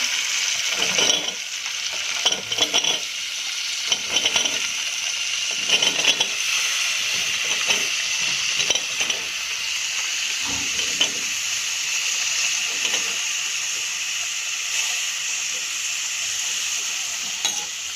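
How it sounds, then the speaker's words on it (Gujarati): Chopped cowpeas and potatoes hit hot frying spices in a pan, giving a steady close sizzle with repeated scraping stirs and clinks throughout, no voices. "હવે આપણે આમાં ચોળી અને બટેકા જે કટિંગ કરીને આપણે રાખ્યા છે તેને આમાં આપણે એડ કરી દઈશું"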